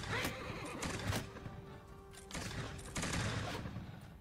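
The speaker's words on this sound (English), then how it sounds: "The horse has been shot" In a Bannerlord battle with muskets, a shot horse whinnies amid rapid overlapping gunfire and battle clatter, faint and dense throughout.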